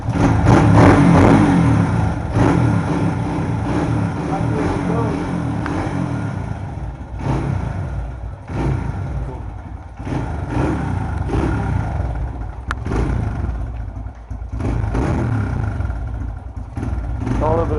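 Honda engine cold-starting on choke, catching and revving in loud uneven surges with mechanical clatter, then settling into a rough idle, with people talking close by.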